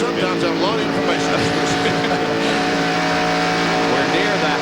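Winston Cup NASCAR stock cars racing at Michigan near the halfway point, a steady loud engine roar with cars passing, under continuous commentator talk.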